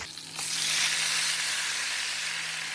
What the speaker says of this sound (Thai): หลังจากนั้นเราใส่ผักเลยนะครับ